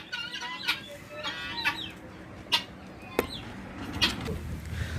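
Chinese-breed hens on a chicken farm cluck in a series of short, bright calls, with a few sharper squawks standing out over a steady low background of farm noise. No one speaks.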